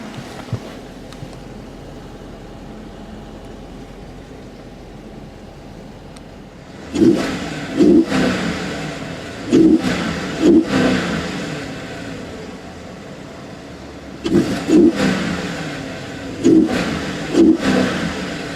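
A 2014 Dodge Charger SRT8 V8 idles with a low burble, then revs sharply several times in short bursts, each climbing and falling back to idle.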